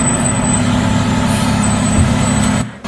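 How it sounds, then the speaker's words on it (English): A fire truck pulls up on scene with a heavy, loud diesel rumble, steady and close, ending in a sharp hiss of air brakes as the engine cuts off abruptly. "Here's the fire truck arriving on scene"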